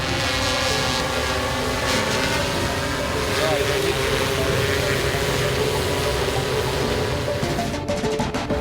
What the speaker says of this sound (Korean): 여기는 군집 드론 시험 비행장.